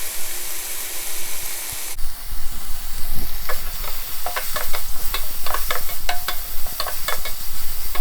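Bell pepper pieces are tipped into a hot pan and start to sizzle loudly, with a steady frying hiss and scattered clicks of stirring against the pan, close up with no voices.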